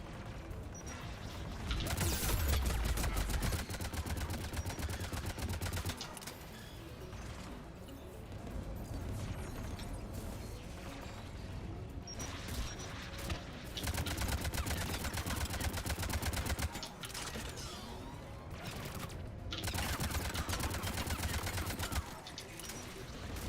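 Turret gunfire in the Mass Effect video game: loud sustained bursts of rapid automatic fire with crashing impacts, continuing in waves throughout.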